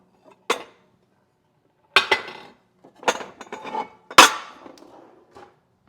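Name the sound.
baking pans being swapped and handled, including a big ceramic pan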